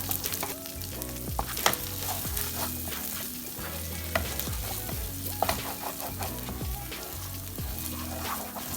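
Samosa filling with freshly added spring onions frying and being stirred in a pan, a loud continuous sizzle with repeated scraping strokes of the utensil, no talk.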